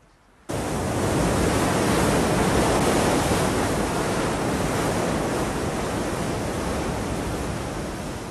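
Sea waves wash in a steady, broad roar that starts abruptly and holds loud and unbroken, like continuous surf close by with no voices.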